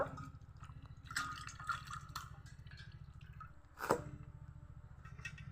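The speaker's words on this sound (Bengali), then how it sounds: "আস্ত লাউটাকেও আগে কাটার আগে একবার ভালো করে ধুয়ে নিয়েছিলাম এখন আরও একবার ধুব" Water runs and drips steadily over a whole bottle gourd being washed, a soft continuous trickle with a few small splashes and knocks from handling.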